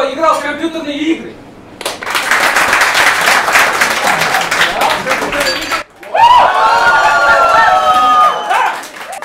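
An audience at a stand-up comedy show bursts into loud applause and cheering that carries on for several seconds. After a brief dip, a second strong wave of clapping and crowd noise follows, close and full.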